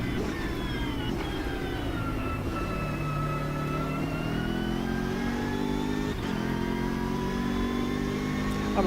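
On the Bathurst circuit in Automobilista 2, a BMW M6 engine drones loud and close, its pitch rising and falling through gear shifts with brief dips between pulls and no talking.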